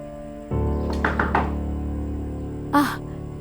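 Three or four quick knocks rap on a wooden door indoors over a low steady hum, followed a moment later by a single louder thud.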